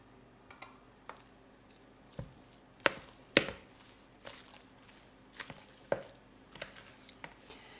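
Chicken meatball mixture with black pepper being worked by hand in a bowl, giving scattered soft squishy slaps and a few sharper clinks against the dish, irregular and close, with no talking.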